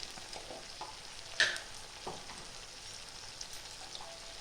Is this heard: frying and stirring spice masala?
yes